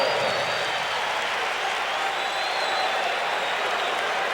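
Basketball arena crowd roaring and cheering after a blocked shot, a steady, dense wall of applause and crowd noise filling the whole moment.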